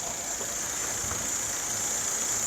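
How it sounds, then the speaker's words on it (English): A 1999 Mercedes E240 W210 engine idles steadily after starting with its automatic gearbox connector unplugged, a constant low running hum with no talk over it. "So this engine manages to start with the gearbox connector disconnected."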